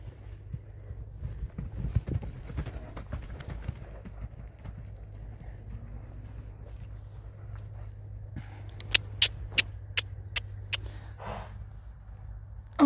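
A Friesian horse trots loose around an arena, its hooves clip-clopping in a steady beat at moderate distance, with a low rumble beneath and a run of sharper, louder hoof strikes near the end.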